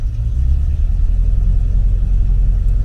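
A Rover P6 fitted with an SD1 V8 engine, healthy and strong, runs with a steady low rumble that rises slightly as it is revved, close and loud, with no voices.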